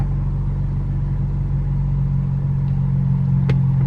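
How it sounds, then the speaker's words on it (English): A car engine idles steadily with a low, continuous rumble, recorded from inside the vehicle while a dash cam powers on; a brief sharp click or tap stands out near the end. "I'll go ahead and turn the car on so you can see what it looks like while it's recording"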